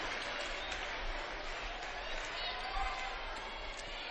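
A crowd in a high school gym at a girls' basketball game makes a steady wash of cheering and applause, with commentators talking over the noise.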